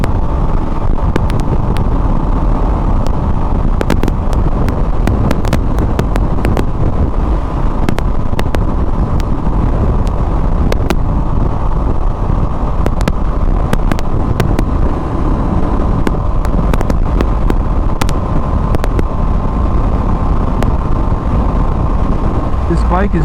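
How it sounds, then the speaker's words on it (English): Strong crosswind roars and buffets against the microphone while riding a 2024 Aprilia RS660 Tribute motorcycle, a loud continuous rushing noise with sharp gusty crackles throughout, engine and road noise blended beneath and talk faintly mixed in. "it's really windy out"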